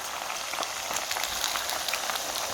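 Steady rain falls outside on a dark morning, a dense, even patter of drops close by that continues without a break, with no one speaking.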